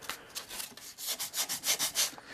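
Hand sanding of wooden drawer fronts with 120 grit sandpaper, a rhythmic series of close, dry scraping strokes that grow steadier and louder toward the end.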